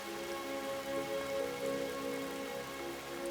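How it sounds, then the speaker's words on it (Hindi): Rain falls steadily, a dense continuous patter with no breaks and no voices. "आ गई तुम्हारी लाडली बारिश।"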